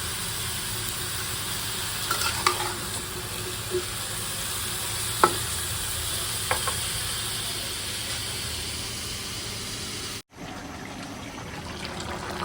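Bottle gourd sizzles steadily in a hot pan as it is stirred, a constant frying hiss with a few soft scraping clinks of the spoon, close and moderately loud, briefly cutting out near the end.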